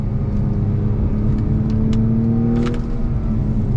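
A 2021 Acura TLX A-Spec with a 10-speed automatic and paddle shifters revs hard on throttle: a loud, continuous engine drone that climbs steadily, close to the car, with no talking.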